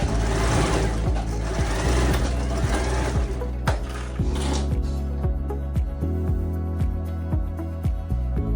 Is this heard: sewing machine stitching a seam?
yes